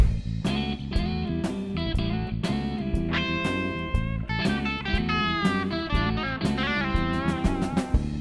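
A distorted electric guitar plays a lead solo, mixing fast picked runs with held, bent and sliding notes over a busy, continuous texture, loud and upfront with no talking.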